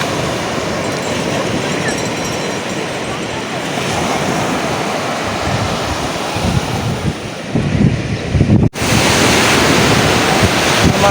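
Heavy surf roars steadily at Bucana beach, Nasugbu, Batangas, with wind buffeting the microphone and a sudden cut near the end before the rushing continues.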